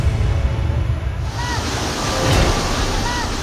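Floodwater rushes steadily during Typhoon Carina in Montalban, a broad, constant roar of churning water close by with no talk over it.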